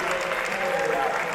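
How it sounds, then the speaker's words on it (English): A sports crowd at a CUW vs CU NE game applauds steadily as a player heads to the bench, a dense, even wash of clapping filling the whole moment with a faint voice underneath. "Carter Kent gets a nice little applause as he heads to the bench"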